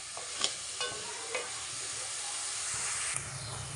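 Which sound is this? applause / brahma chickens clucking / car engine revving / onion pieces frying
onion pieces frying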